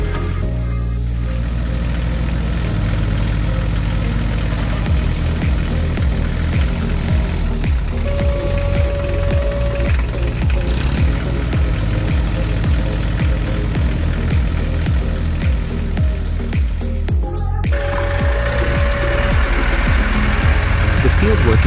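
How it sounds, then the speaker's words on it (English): A green tractor works steadily along field rows, its engine a continuous loud rumble throughout, joined by a rhythmic baler and occasional higher beeping tones, with music or a voice running over the machinery. "The green tractor moves steadily along the rows."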